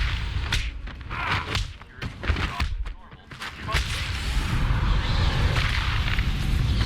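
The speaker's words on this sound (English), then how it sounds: "the impact of Batman's punches" Heavy punch impacts from Batman's melee combat in Batman: Arkham Asylum, a run of thuds and whooshing hits over a dense, continuous fight soundscape.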